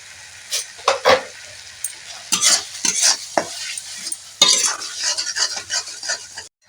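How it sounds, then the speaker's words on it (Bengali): Spices frying in a pan for a spicy dried-fish (shutki) curry, a close, loud sizzle broken by repeated sharp scraping and stirring strokes with a utensil against the pan. "মশলা ভাজা হয়ে গেছে দেখতেই পাচ্ছেন"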